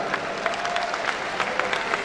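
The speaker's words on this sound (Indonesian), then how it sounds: "Tepuk tangan untuk beliau-beliau semuanya." An audience at a vocational high school graduation ceremony applauds steadily, a dense, even patter of many hands clapping that carries through the whole stretch at a moderate distance.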